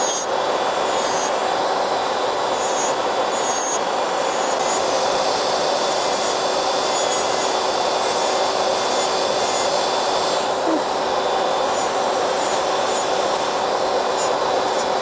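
An electric nail file fitted with a 5-in-1 bit grinds gel polish and hard gel off a fingernail, a continuous high-pitched motor whine with a steady buzz and light scraping, close and unbroken throughout.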